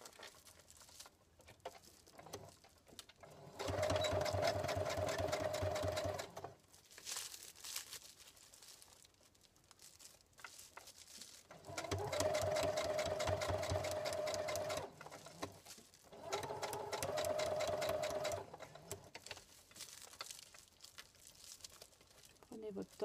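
A sewing machine stitches the insulating lining of an insulated pouch in three loud bursts of rapid whirring, separated by pauses filled with fabric rustling and handling, with a faint voice in the background.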